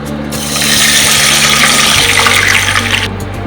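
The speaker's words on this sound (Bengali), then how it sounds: "এবার আমি এই একই কড়াতে যে দুধটা নিয়েছিলাম ওটা দিয়ে দেবো।" Milk poured into a kadai for paneer malai, a steady loud liquid rush that swells in, holds for about two and a half seconds, then tapers off, with a low hum underneath and no talking.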